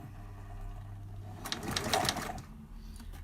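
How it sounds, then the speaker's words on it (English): A sewing machine zigzag-stitches coiled rope for a rope bowl, a fast close chatter of needle strokes lasting about a second amid quieter motor hum, with no talk. "Let's get your zigzag stitch on."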